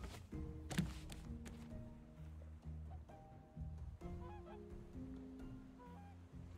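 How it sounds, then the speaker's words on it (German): Repeated gull-like calls and squawks in the video game Raft, faint and somewhat distant, scattered over a low background hum with occasional brief clicks. "Hört ihr das? Irgendwo sind Möwen oder so."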